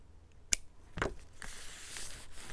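Scissors snip along a lace edge for a craft embellishment cluster, giving a few short, crisp cuts close by in a quiet room, with no talking.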